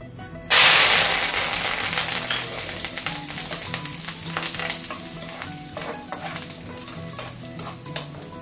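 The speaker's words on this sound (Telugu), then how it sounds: "చివరగా కరివేపాకు కూడా వేసి వేయించి అందులో కలుపుకోవాలండి." Curry leaves dropped into hot oil burst into a loud, sudden sizzle that settles into steady crackling and spitting, close and with no one talking.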